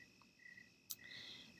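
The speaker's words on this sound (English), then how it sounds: "So these crickets playing, the summer night soundtrack" Crickets chirping on a summer night, a faint steady high trill in repeated pulses with a brief sharper sound in the middle, no voices.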